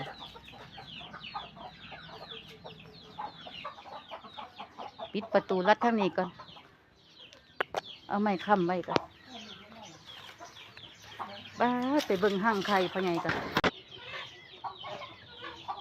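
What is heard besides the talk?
chickens clucking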